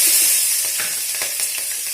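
Green chillies fry in hot oil with panch phoron, giving a steady, bright sizzle and hiss with a few crackling spits and clinks near the middle, close and fairly loud throughout.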